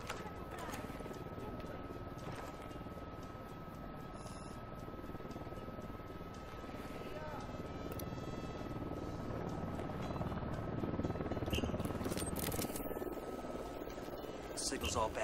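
Surveillance drone buzzing in the video game Ghost Recon Wildlands, a steady whirring rotor drone with a constant tone that grows slightly louder, mixed with game ambience and voices talking.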